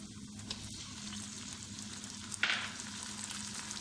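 Tomatoes sizzle and fry in a pan of masoor dal: a steady, faint crackle throughout, with one brief louder spatter partway through, close by and with no talking.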